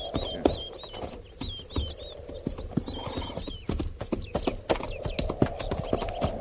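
Several horses clip-clop along at a walk in a radio drama, the hoofbeats close and uneven, with occasional whinnies and a few bird chirps high in the background.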